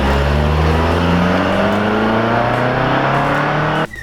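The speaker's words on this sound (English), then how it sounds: "Burnout test before we do the manual conversion." A Nissan S13 with an automatic gearbox does a burnout, its engine revving hard with pitch climbing steadily under a loud, close roar before cutting off abruptly near the end.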